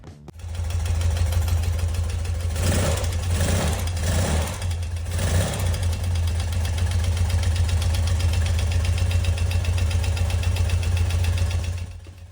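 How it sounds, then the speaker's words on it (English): Restored motorcycle engine, with valves and timing freshly done but carburetor not yet adjusted, fires up and settles into a steady, close, loud idle with a few brief revs before cutting off near the end. "let's listen to this engine purr."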